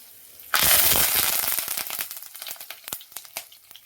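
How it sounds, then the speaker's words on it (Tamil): Crushed garlic hits hot oil with a sudden loud sizzle that crackles and spits, then gradually settles into lighter, scattered popping. "எண்ணெய் சூடாயிடுச்சு இப்போ நம்ம பூண்டு தட்டி வச்சது போட்டுடலாம்"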